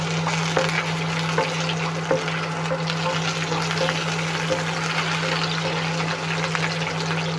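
Pieces of coconut frying in a pan for a soya ball masala, a steady oily crackle with a low constant hum beneath and scattered small pops throughout, with no voices.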